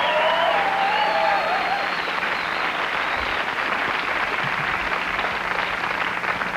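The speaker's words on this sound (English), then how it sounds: "beat the crowd to get that applause out of them" Studio audience applause on a 1992 late-night comedy talk show, a steady broad wash of clapping at full strength that holds evenly throughout, with a brief whistle or cheer near the start.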